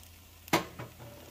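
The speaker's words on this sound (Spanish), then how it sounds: "Voy a revolver bien" Potatoes and carrots frying in a pan are stirred, giving one sharp scrape with a sizzle, then a softer second scrape over a faint background.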